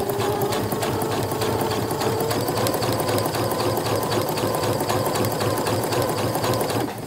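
A sewing machine stitches a fabric bag in a fast, even mechanical rattle that runs steadily and close up without pause, with no talk.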